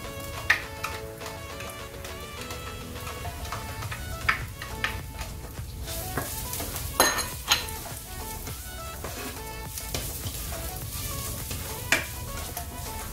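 Onion and garlic fry in a pan for Filipino bulalo-monggo, a steady close sizzle with occasional spatula scrapes and stirring clinks throughout, no talk.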